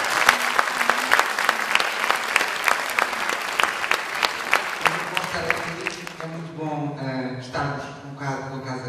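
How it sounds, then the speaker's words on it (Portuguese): Audience at a Portuguese music stage show applauds for a musician, dense clapping for about five seconds, then thinning out as a singing or sustained voice comes through at the end. "Um salve de palmas para ele"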